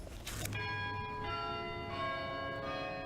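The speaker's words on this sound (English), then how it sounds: "church bells ringing and a Muslim giving a sermon?" A church bell rings out in a few slow, resonant strikes, each leaving a long humming decay over a soft background hum.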